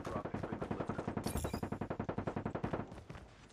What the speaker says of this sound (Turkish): Balistik silah kullanıyor şu an.